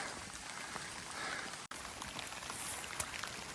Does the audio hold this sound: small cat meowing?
no